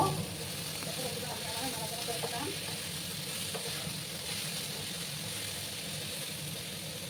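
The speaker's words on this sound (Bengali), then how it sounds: "একটু সময় নিয়ে একটু ভাজা ভাজা করে নেব" Ridge gourd pieces frying over high heat in oil, a soft, even sizzle with faint stirring taps, steady and fairly quiet throughout, with no talking.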